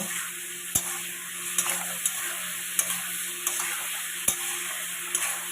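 Chickpeas, potato and papaya fry in a pan with ground cumin, chilli paste, turmeric and salt, giving a steady soft sizzle with occasional sharp clicks of stirring.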